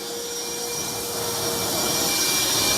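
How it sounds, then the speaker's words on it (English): A vacuum cleaner runs with a steady, loud whining drone that holds constant throughout, with no voices over it. "Let's get another vacuum in here."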